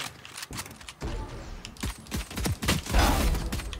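Video game gunfire: bursts of sharp, loud shots in quick irregular clusters, with brief gaps between volleys and a heavier cluster near the end.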